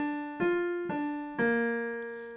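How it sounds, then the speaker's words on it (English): Major chord played as an arpeggio, three notes that enter one after another at a steady pace, each ringing on under the next, clear and close with no talking. "Here is a major chord."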